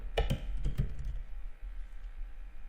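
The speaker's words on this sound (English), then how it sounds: "The backspace from your keyboard, it will be removed, then enter your number." Soft clicks from a computer keyboard, struck in a quick burst of a few keys and then a short pause, with the quiet taps alone in an indoor room.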